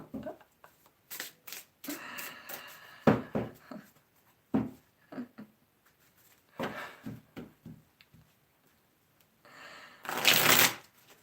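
Tarot cards being shuffled in quick bursts of riffling and slapping, close by, with short pauses between bursts and a louder riffle near the end.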